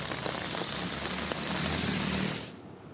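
Heavy rain pours during flooding in Jammu, a dense, loud hiss of rain on surfaces that holds steady and then eases near the end.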